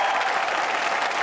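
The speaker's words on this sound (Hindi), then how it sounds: "जोरदार तालियों से स्वागत किया जाए।" A studio audience on a TV show bursts into loud, dense applause welcoming the poet Gopal Das Neeraj, a continuous clapping roar with no voices.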